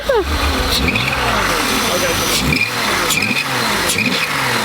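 Engine of a barn-find BMW E24 635CSi idling smoothly and steadily, with a faint high squeal weaving over the even hum while someone talks over it.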